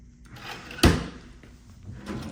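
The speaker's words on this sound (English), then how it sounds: "And a drawer." A drawer in a hotel suite at the Pixar Place Hotel, Disneyland Resort, slides open with one sharp, near thud and a rub of wood, followed by soft room noise.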